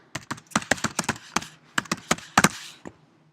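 Rapid typing on a computer keyboard, with a quick run of crisp, close key clicks in bursts and brief pauses between them.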